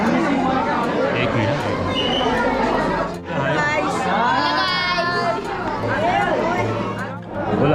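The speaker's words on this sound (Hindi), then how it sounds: "आज भीड़ बहुत है रविवार की वजह से" Many visitors at City Palace, Udaipur, fill the space with dense, continuous crowd chatter and overlapping voices, including children, with a nearby person speaking briefly over the din.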